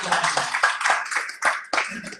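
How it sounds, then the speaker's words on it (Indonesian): A church audience claps at a Sunday service, a short burst of clear, close hand claps in uneven rhythm, with several separate sharp hits. "berikan tepuk tangan"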